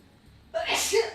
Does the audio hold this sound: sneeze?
yes